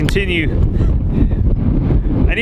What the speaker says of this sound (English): It is windy out here still.